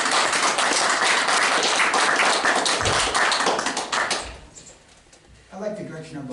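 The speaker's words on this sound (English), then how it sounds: "Round of applause." Dense applause and clapping from the audience at a design review board meeting, steady and loud for about four seconds, then fading out before a voice begins speaking.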